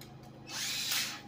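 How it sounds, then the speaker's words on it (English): A power drill fitted with a 1 3/8-inch hole saw spins up and bites into material, a rising broadband whine that builds over about a second and holds steady, close and fairly loud with no talking. "I'm going to grab our drill"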